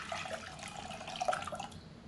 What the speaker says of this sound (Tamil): இதில் 3 கப் அளவுக்கு தண்ணி சேர்த்துக்கணும்.